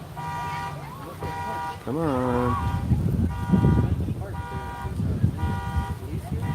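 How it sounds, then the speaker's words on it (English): A pickup truck's car alarm blares nearby after its tailgate is closed, repeating steady horn-like tones and rising whoops, while people talk over it at the scene. "So they set off the alarm on the pickup truck by closing up the tailgate."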